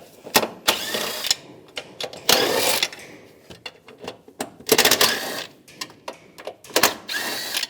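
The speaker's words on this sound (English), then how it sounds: "we'll take these bolts out. Use a 10mm socket." Metal clicks, clanks and short ratcheting bursts come from a 10mm socket ratchet loosening bolts beside the battery cover of a 1998-2010 Volkswagen Beetle. The bursts are close, loud and irregular, with brief pauses between them.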